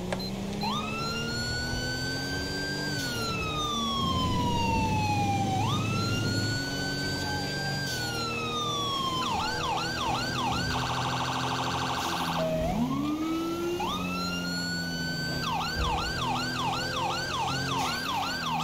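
Ambulance and police sirens in the LSPDFR police game, cycling loud wails alternating with rapid yelp patterns over a constant engine and traffic bed, continuous and close with no talking.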